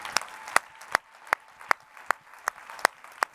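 A church congregation applauding during a service, heard as sparse, evenly spaced claps, roughly two or three per second, over a faint crowd background.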